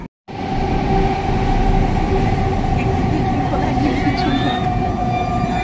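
A metro train rumbles loud and steady through the station, its dense rolling roar sustained after a brief cut of silence, with faint voices mixed underneath.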